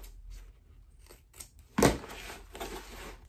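Scissors snip through fabric during a sewing project, a single crisp close cut standing out amid faint handling rustles.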